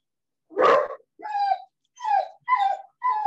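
A dog wearing a bark collar lets out one full bark followed by four shorter, thinner yelping barks in a steady rhythm, close and alone.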